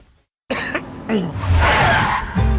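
In a Hindi TV cough-medicine advert, a sharp cough bursts out after a moment of silence, followed by a longer rough, raspy throat sound that swells loudly and fades near the end.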